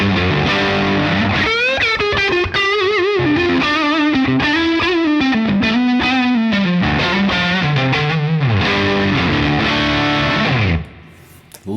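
Electric guitar through a Crazy Tube Circuits Ziggy V2 overdrive pedal playing a loud, gritty bluesy phrase with bent notes, sustained and powerful, ringing out alone before cutting off.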